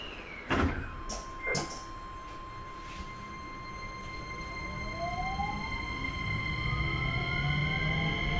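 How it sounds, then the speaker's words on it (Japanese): Two sharp thumps of train doors closing in quick succession, then a steady electronic hum and rising motor whine as a Keisei 3100 series Access Express train begins to move; no talking. "閉まる扉にご注意ください"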